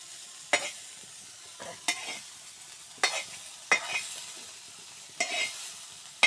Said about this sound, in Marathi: पहिले पत्ती टाकायचं, मिरची टाकायचं, हलव, तेल टाकून